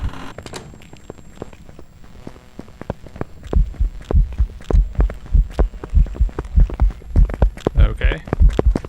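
A loud, pulsing heartbeat in the Phasmophobia ghost-hunting game throbs in a steady rhythm, growing stronger through the second half, with speech audible at times over it.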